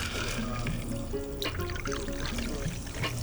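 Soda pours steadily into an iced highball glass for a grapefruit vodka cocktail, a soft continuous trickle and fizz heard under someone talking throughout.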